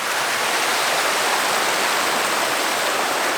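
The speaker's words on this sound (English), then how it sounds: "a bit loud next to the river here" A mountain river in the Swiss Alps rushes loudly close by, a dense, steady roar of flowing water that fills the whole clip without pause.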